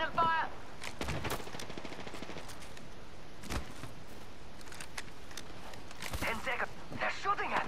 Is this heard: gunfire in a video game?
yes